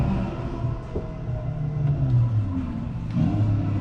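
A Sea-Doo engine runs after its pump is reassembled, a steady low mechanical rumble that rises a little in pitch and loudness toward the end, close and with no talking.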